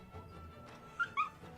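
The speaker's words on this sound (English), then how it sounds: "It's a puppy!" A puppy in the game Naraka: Bladepoint gives two short, high whimpering yips close together, fairly faint over a soft low background hum.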